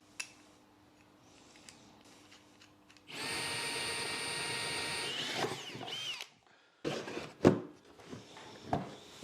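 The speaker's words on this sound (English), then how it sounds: "I'm going to drill a bigger hole that I know will be a good fit for my dust hose" Power drill boring a larger hole for a dust hose fitting on a belt sander setup, a steady whining run of about three seconds followed by shorter bursts and clunks as the bit is handled.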